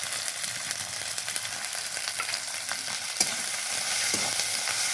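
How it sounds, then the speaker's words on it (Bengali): Ginger-garlic paste, tomato paste, turmeric and chili powder frying in oil in a pan for a light fish curry, a loud steady hiss with faint crackles and one clear scrape of a spoon. "এরকমভাবে ভাজা হবে, হালকা ভাজবো।"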